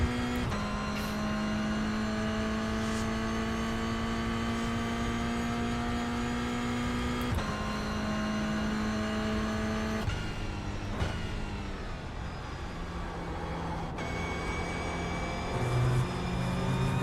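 A Toyota GR86 Cup race car drives on the track at Watkins Glen, its engine holding a sustained high-revving drone with shifts and pitch changes around the lap, recorded in-car at a fairly low level.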